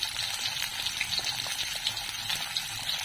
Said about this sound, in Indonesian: Tumis sehingga keperangan.